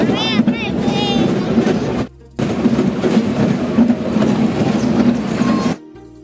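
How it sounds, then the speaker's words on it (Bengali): A passenger train running on rails, a loud continuous rumble and rattle close by with brief squeals, a short drop near the middle, and the noise fading toward the end. "এখন মনে হয় ট্রেনটা থামবে"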